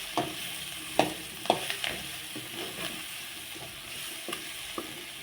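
Spices and onions sauté for a mutton curry while being stirred, with a steady sizzle under repeated scraping and clacking strokes of the spoon against the pan at irregular intervals, close and clear, without talk.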